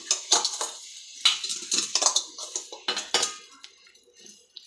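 A spoon clinks and scrapes against a metal pot while tea powder is stirred into boiling water for stall-style tea, irregular close taps and scrapes with quiet gaps between.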